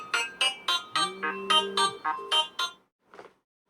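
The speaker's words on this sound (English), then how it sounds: "we can hear Bob's new ringtone." Ringtone on a Doro 7030 mobile phone: a bright electronic melody of quick, evenly spaced beeps with a short sustained two-note phrase in the middle, ending in one fainter trailing note, clear and alone.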